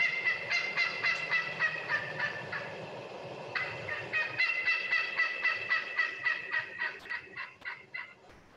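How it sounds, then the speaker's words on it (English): Wild turkey hens give a run of excited yelps, a steady series of loud, evenly spaced raspy calls repeating for several seconds before fading out at the end. "These are excited hen yelps."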